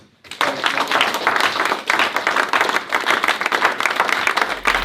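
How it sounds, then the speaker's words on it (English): A crowd claps a round of applause for a group that hit its April targets, dense and steady from start to finish, filling the space with continuous close clapping. "I just want to give you a round of applause"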